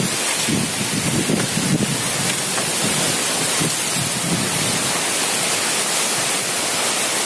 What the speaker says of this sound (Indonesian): Hujan angin lur. Gede sekali hujannya.